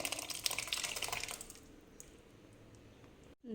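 Lentil cooking water is poured into a pot of dal, a close splashing gush that fades after a second or so into quiet trickling.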